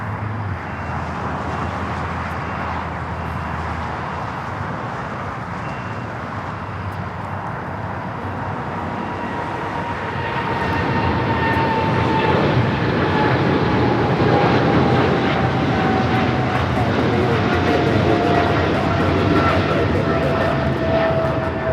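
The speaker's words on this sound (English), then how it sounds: "We have the American 777-300ER rolling." An American Airlines Boeing 777-300ER takes off from LAX, its jet engines roaring loudly and building in strength as it rolls down the runway, with a rising whine sliding downward partway through.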